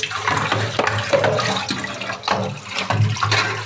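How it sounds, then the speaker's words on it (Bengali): Tap water runs steadily and fairly loud over fresh ginger being rinsed in a kitchen, a continuous splashing stream with small shifts in flow and no voices. "আদাটা ধোয়া শেষ, এখন রসুনটা ধুয়ে নিব"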